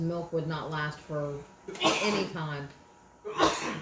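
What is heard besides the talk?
sneeze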